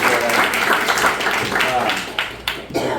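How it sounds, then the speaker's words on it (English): A small group seated in a restaurant gives a short round of applause, a dense patter of claps that thins out and fades within a few seconds. "So a round of applause."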